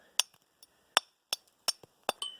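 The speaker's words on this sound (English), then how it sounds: "So you just take a mason's hammer" A mason's hammer knocks the lip off a retaining wall block for a fire pit, five or six sharp, ringing metallic strikes in an irregular rhythm, close and clear, with small clinks between them.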